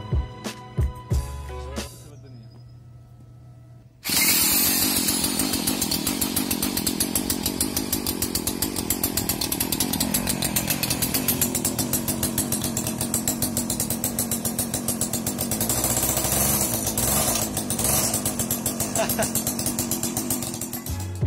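A homemade gas-engine scooter starts after a few short cranking attempts, then its small engine runs loudly and continuously near the listener with a rough, rapid buzzing chatter, revving slightly up and down.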